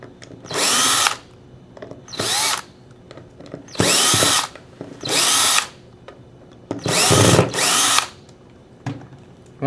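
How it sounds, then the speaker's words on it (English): A power drill backs screws out of a Cyclone feed machine in six loud, separate whirring bursts. Each lasts about a second and is split by short pauses, and one of the bursts briefly skips over a screw head. "You could kind of hear the drill skip over the screw."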